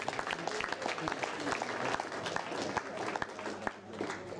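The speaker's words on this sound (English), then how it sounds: "One round of applause for the adjudicators" A hall audience claps for the adjudicators at a national debating final, a dense, steady roll of many hands at moderate distance with a few sharper claps standing out.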